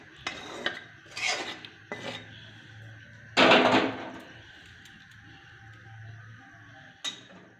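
Cooked ghugni is poured from a pot into a bowl in a kitchen, with several sharp metal scrapes and clatters of pot against bowl spaced out over a faint background hum, one louder rattling burst in the middle.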